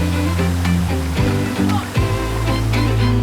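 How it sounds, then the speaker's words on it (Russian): A river flowing through Seoul, a loud, continuous rush of water with splashing bursts and a steady low roar, close by and with no voices. "Течет река."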